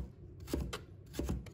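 A kitchen knife slices half a carrot into wavy strips on a cutting board, a few quick close cuts in two short clusters over a soft background.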